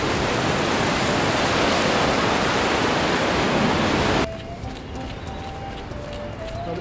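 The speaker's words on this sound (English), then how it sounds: "the waves crash over the rocks right on top of you" Ocean waves crash over rocks into a seaside rock pool on the coast between Bronte and Coogee beaches, making a loud, close, roaring wash for about four seconds before suddenly dropping to a quieter, trickling surge.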